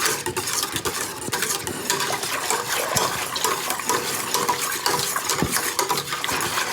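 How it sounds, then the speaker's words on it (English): Eggnog mixture with vanilla vodka being stirred; continuous close splashing and swishing liquid with occasional clinks of a utensil against the container. "Just give it a nice little stir. Make sure that everything's all nice and mixed up."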